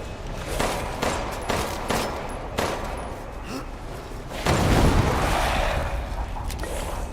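Resident Evil Village gunfire ending in a shot mine going off: a few sharp gunshots, then a louder blast swelling midway and trailing into rumbling debris, close and loud.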